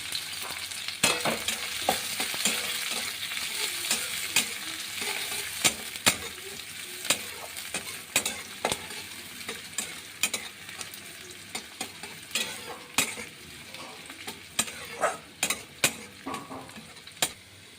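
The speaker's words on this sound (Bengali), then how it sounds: "আমি পেঁয়াজটা দিয়ে দিলাম রসুনটাও দিয়ে দিলাম শুকনো লঙ্কাগুলো দিয়ে দিলাম" Onion, garlic and dried red chillies fry in a little oil for a Malabar spinach, pumpkin, potato and brinjal dish, a steady close sizzle broken by frequent clacks and scrapes of a spoon stirring the pan, with no talk.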